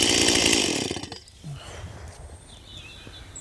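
Two chainsaws, a Greenworks 60V battery model and a petrol one, left running at idle; a loud, steady engine drone fills the first second, then drops to a quieter, uneven low rumble with faint higher whines.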